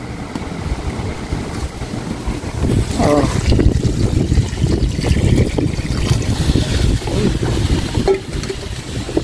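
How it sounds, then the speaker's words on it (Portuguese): Water poured into a cooking pot of prepared beans on a rural wood-fired stove, a steady rushing splash lasting several seconds, close and fairly loud, with a brief spoken word. "Já tá preparadinho para cozinhar. Vou colocar água agora."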